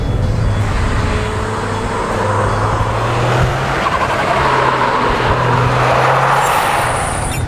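A car accelerates hard around a circuit, its engine tone rising and stepping down at each shift-up, heard as continuous loud road and engine noise with some tyre roar; no voices.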